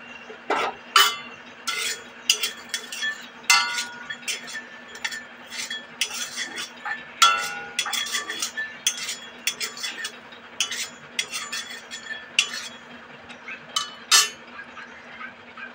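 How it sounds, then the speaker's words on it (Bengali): Lotte dried fish is dry-roasted in a wok, with a spatula scraping and clinking against the metal in irregular bursts. The stirring is close, with faint hiss between strokes and no talking. "কড়াই বসিয়ে কড়াইয়ে ভালোভাবে টেলে নেব"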